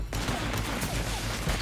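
Gunfire in the video game inFAMOUS 2 during a street fight among civilians, a dense, continuous barrage of shots layered over steady game noise for under two seconds, with no talk over it.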